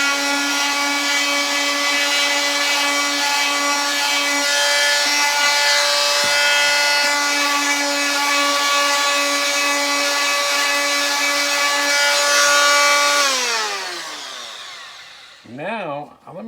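Power sander running steadily on a wooden cigar box guitar body, a loud sustained whine with strong harmonics that winds down near the end, followed by brief scraping.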